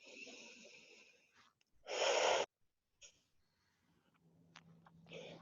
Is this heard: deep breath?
yes